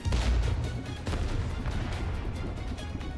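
Arknights explosions go off one after another in a dense, rumbling barrage of deep booms and crackling bursts. The sound stays loud and continuous, with no voices.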